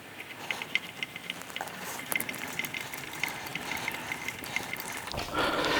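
Screwdriver ratcheting as it drives the center screw into the wood top of a scratch-built guitar to mount its bridge. Repeated clicking ratchet strokes, fairly close and steady, with no speech.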